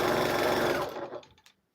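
A sewing machine stitches a quilt panel in a fast, even mechanical whir close up, then slows and stops within about a second.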